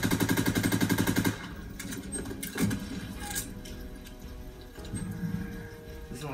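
A rapid, close burst of MP40 submachine gun fire in Call of Duty WW2, about a second long, followed by quieter game sounds and a few faint thuds.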